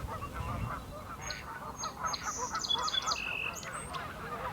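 Geese honk along the Bow River on a spring day, a busy overlapping chorus of loud, nasal calls over steady wind and low background rumble.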